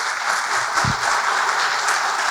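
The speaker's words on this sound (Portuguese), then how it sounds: "Vamos aplaudir a Jesus bem forte" Church congregation applauding after a sermon, a steady dense wash of clapping filling the room at even loudness throughout, with no break.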